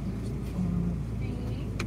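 A car engine idles steadily with a low rumble throughout, close by, with faint background noise and brief light sounds on top; no one speaks over it.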